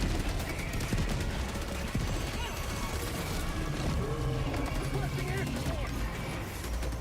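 Dense, continuous gunfire and crashing impacts from a strafing run in the Helldivers 2 video game, loud and sustained throughout with cluttered battle noise layered over it.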